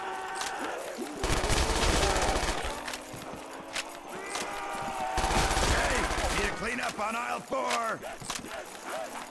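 Steady, fairly loud gunfire from a weapon in a custom Nazi Zombies video game level, rapid shots running almost continuously alongside layered game sound effects.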